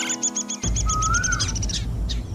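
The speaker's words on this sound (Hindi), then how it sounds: "ऊपर उस पेड़ पर कितनी सुंदर चिड़ियाएं बैठी हैं।" Small birds perched in a tree chirp and tweet in a run of quick, evenly spaced calls, moderately loud over a low rumbling background, with a brief plain tone near the start.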